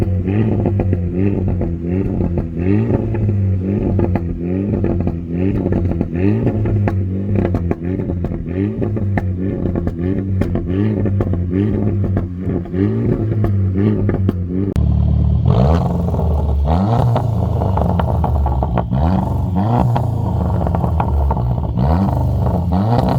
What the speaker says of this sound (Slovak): Najprv si poďme vypočuť, ako tieto autá znejú.